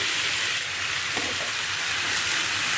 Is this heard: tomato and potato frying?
yes